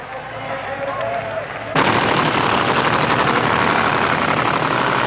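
A 1964 nitro-fuelled drag racer launches off the line beside Don Garlits's car at the Indy Nationals, its engine erupting abruptly into a deafening, rapid-fire crackling blast that holds at full volume.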